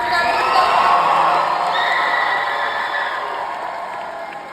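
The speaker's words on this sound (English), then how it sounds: "Let's cheer it up." Graduation audience in New Orleans cheering loudly, a dense crowd roar with shouts and whoops that swells at once and slowly fades over several seconds.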